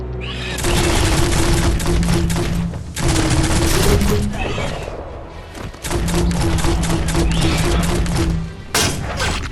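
Bursts of rapid gunfire from the video game Biomutant crackle in long, loud volleys, pausing briefly between them, with game music and effects underneath.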